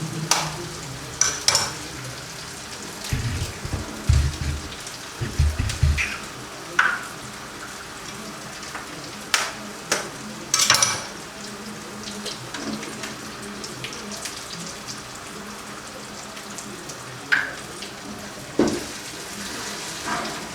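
Eggs being stirred and mixed in a bowl for a simple egg recipe, scattered clinks and scraping strokes with light watery splashes, fairly close and irregular, no voices.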